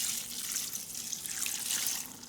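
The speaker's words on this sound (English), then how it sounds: "now I think that this is about 20 ounces of water" About 20 ounces of water pours steadily from a tap for a white chicken chili, a continuous close splashing and trickling stream with no talk over it.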